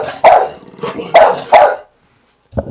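A dog barks on command, giving three or four sharp, loud, close barks in quick succession, then a pause and a short final yip.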